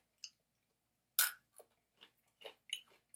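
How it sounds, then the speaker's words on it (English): Hard, crunchy, salty, greasy snacks crack and crunch in a few separate bites, one loud crunch followed by softer chewing sounds with silence between. "Sometimes I like to pop them back and just chomp down."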